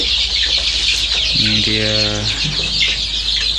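Free-range village chickens cluck steadily in a new coop on a small farm, amid a constant hiss of background noise; a person speaks briefly over them.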